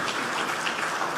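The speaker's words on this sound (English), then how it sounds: "Please give them a big round of applause." A crowd at a health-sector gathering of African leaders in Accra applauds in a steady, even patter of many hands that holds at a moderate level throughout.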